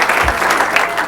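A church congregation bursts into brief, dense applause during a worship service in New Jersey, a loud wash of clapping over about a second.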